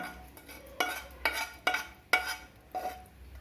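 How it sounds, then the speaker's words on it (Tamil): Cooled oil tempered with mustard seeds is mixed into a spicy homemade mango pickle, giving four or five distinct wet scraping stirs at a steady pace, close by, with no talk. "ஆற வச்ச பிறகு தான் ஊற்றுறேன் கலந்துக்கலாம்"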